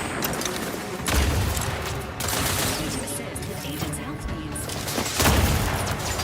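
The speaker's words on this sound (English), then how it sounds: "She's shooting rockets at us." Rockets from an enemy fire and explode in The Outer Worlds 2, booming blasts at intervals amid dense continuous combat noise, loud and close, with a voice talking over it.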